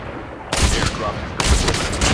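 Gunfire in a Call of Duty Mobile battle royale match, including a sniper rifle shot, comes as two loud, sharp bursts with sustained crackling. The first lasts about a second and the second follows shortly after.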